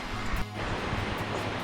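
Water rushes steadily beneath a suspension bridge near Randa, Switzerland, a constant broadband roar heard up close with some wind buffeting.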